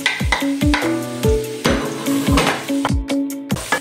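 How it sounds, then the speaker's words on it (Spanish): Onion and garlic sautéing in a pan give a steady sizzle and frying hiss, broken by repeated sharp clacks of a utensil stirring against the pan, close and loud with no talk. "con las mismas vamos a pochar un poquito de cebolla"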